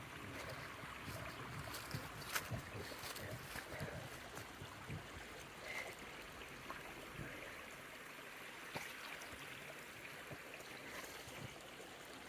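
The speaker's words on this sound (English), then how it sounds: "enjoy the sound of the water" Stream water flows steadily along the Appalachian Trail in Shenandoah National Park, a faint, continuous wash and gurgle heard from a resting spot with no voices.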